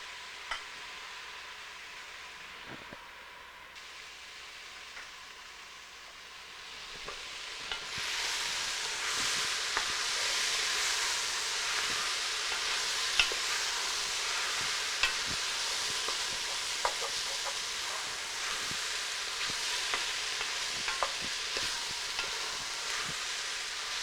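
Mushrooms frying in a pan over medium heat sizzle steadily, growing louder partway through, with soft scrapes and taps of occasional stirring scattered over the hiss.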